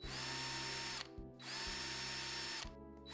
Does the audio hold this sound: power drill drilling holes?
yes